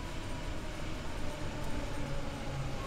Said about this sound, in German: Die S-Bahn fährt auch schon ein.